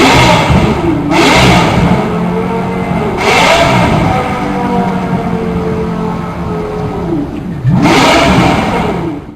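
A Lexus LFA's V10 engine idles with a loud roar, then revs sharply three times, each rev climbing to a high scream before dropping back.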